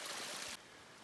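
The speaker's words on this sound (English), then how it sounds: "the trail is more a stream than a trail for the moment." Water from a stream runs down a rocky hiking trail on a mountain pass climb, a close, rushing wash that drops to a softer trickle partway through. No one speaks.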